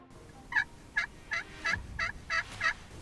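A wild turkey gobbles seven times in a steady series of sharp, rattling calls, fairly close and loud, during a spring gobbler hunt in Wisconsin.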